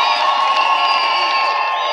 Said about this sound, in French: Est-ce que je peux entendre des cris de joie